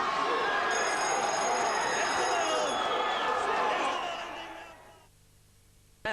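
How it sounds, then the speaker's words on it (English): Boxing ring bell at a fight at the Stardust Room, Seagulls, Tweed Heads, ringing loud and steady over crowd noise and commentary, then stopping abruptly before the clip ends. "The bell rang."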